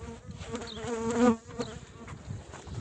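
Honeybees buzz close by around a reed beehive a month after settling in, a dense wavering drone that swells briefly and then carries on steadily.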